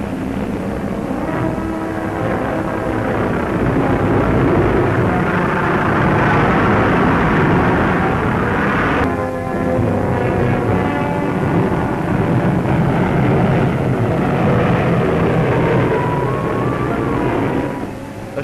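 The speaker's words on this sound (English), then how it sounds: "the camera at the far end of the drone gets the picture as three bombers roar over the sand" Three Vickers Wellesley and Bristol Blenheim bombers roar low over desert sand, a loud, steady, rumbling drone of piston engines filling the whole stretch with no break and no voices.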